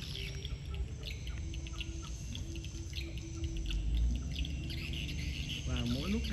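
Swiftlets call steadily at a newly opened swiftlet house in Gia Lai, Vietnam, their chirps repeating over a dense background hum of insects, with a sweeping twittering burst near the end.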